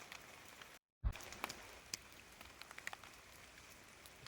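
Light rain patters steadily on foliage and surfaces in a misty hill landscape near Kodakara, Thrissur, with scattered close raindrop ticks over a soft, faint wash and no voices.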